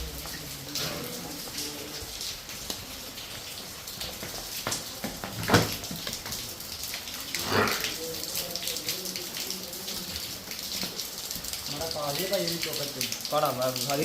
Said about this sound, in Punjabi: ਮੀਂਹ ਜਿਹੜਾ ਬਾਹਰ ਕਾਫੀ ਪੈਂਦਿਆ